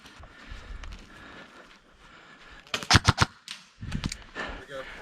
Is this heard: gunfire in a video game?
yes